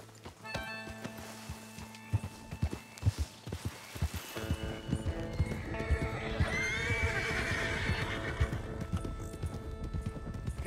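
Horses in the video game Red Dead Redemption 2 whinny loudly and snort while hooves clop and pound in quick runs. A low rumble builds as the galloping continues, with a faint voice calling out at times.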